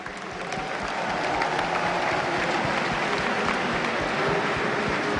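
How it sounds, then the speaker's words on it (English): A live esports audience at a European regional tournament applauds the Minions team: a dense, steady wash of many hands clapping that swells after the first second and holds loud and even throughout, with no one speaking. "Maybe a round of applause for Minions."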